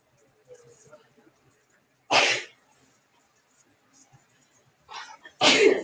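A person sneezes twice, a loud burst early on and another near the end, with faint background sounds between and no speech over them.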